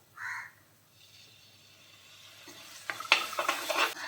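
Tomato and chilli sauce being stirred in a pan for an egg dish, starting with a brief faint tone, then low hiss that builds into louder scraping and sizzling bursts over the last second, with no voices.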